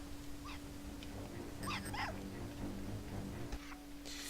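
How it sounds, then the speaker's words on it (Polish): A dog in the video game Hitman Blood Money gives a few short yips and whimpering barks over a steady electronic hum and game ambience, moderately close and not very loud. "Jak widać ten pies będzie chyba za nami biegał i ujadał."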